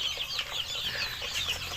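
Chicks raised under a mosquito-proof net cover on a native chicken farm cheep and cluck continuously, a dense high-pitched chatter of many small birds close by.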